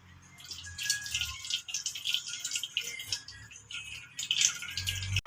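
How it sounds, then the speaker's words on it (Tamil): Tamarind water trickles and drips steadily into a separate pot while being strained for rasam, a close, continuous splashing pour with small irregular drops throughout. "குவாதல் இல்லாம தனியா ஒரு பாத்திரத்துல அதெல்லாம் இப்படி வடிச்சு எடுத்துக்கணும்"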